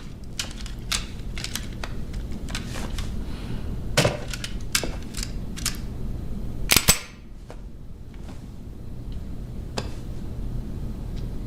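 Gunshots at shooting practice in a crime thriller film ring out as sharp, isolated cracks spaced irregularly over several seconds, a couple louder and closer than the rest, with no speech over them.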